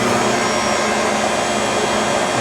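A Grizzly G0800 lathe motor runs at speed, producing a steady, even, close whirring hum with no breaks or voices.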